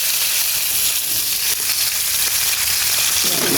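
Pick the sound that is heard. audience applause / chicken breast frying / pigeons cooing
chicken breast frying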